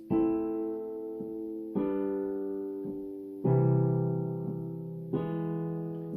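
Four sustained piano chords, each struck with the notes together and left to ring and decay before the next, with a softer note sounding between.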